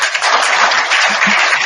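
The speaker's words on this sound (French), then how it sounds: "on peut applaudir nos intervenants" An audience at a summer evening talk on data in real estate applauds the speakers, a loud, dense, continuous wash of many hands clapping at once.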